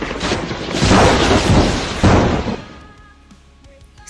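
Holy lightning strike attack effect in VRChat: a loud, crackling booming burst that swells for over two seconds with a second sharp crack midway, then decays into quieter rumbling tail.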